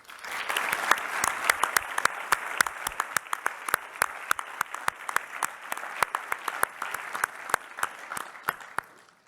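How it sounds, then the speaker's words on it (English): Applause for students at a university commencement ceremony, a dense burst of many hands clapping that thins out toward the end, with scattered louder individual claps. "Let's give the many students involved a big round of applause."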